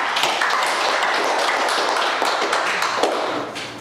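Church congregation claps during a Korean worship service, a dense, steady patter of many hands close by, holding for several seconds before tapering slightly.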